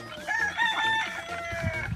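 Roosters crow in a small backyard chicken coop at feeding time, overlapping calls mixed with clucking, steady and moderately close for the whole stretch.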